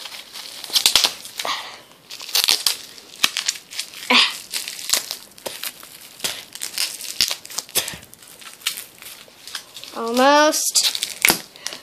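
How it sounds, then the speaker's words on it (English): Plastic eBay mailer packaging being torn open by teeth, close up, with crinkling, rustling and short ripping bursts spread across the clip and a young voice talking over it. "I'm gonna unbox this with my teeth"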